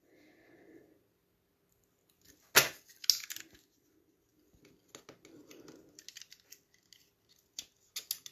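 Scissors snip paper for a diamond-shaped greeting card, giving a few sharp close cuts followed by quieter, scattered snips and rustles in an otherwise quiet room.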